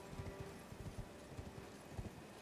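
Horse hooves clip-clop in Elden Ring, a quick irregular run of soft thuds carrying on at moderate volume over low ambient game noise, with no talk.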